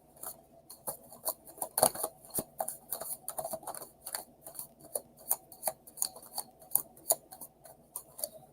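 Tarot cards being shuffled and riffled, with rapid light clicks and flicks in irregular bursts, close and fairly quiet.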